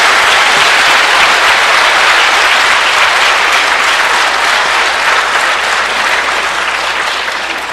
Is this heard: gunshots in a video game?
no